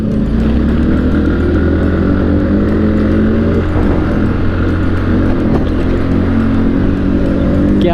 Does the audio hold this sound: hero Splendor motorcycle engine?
yes